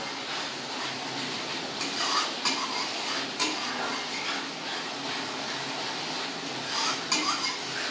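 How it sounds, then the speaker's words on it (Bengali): Spice masala for a no-onion, no-garlic dum aloo frying in oil in a pan: a dense, continuous sizzle broken by repeated scraping and clanking as the spatula stirs it, with no talking. "এবার আমি এই মশলাগুলো ভালো করে ভাজবো"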